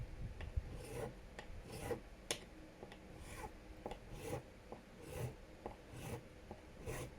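Repeated rasping strokes of a metal file cutting a fret on a Squier Classic Vibe Jazzmaster, steady back-and-forth scraping close up with no voices.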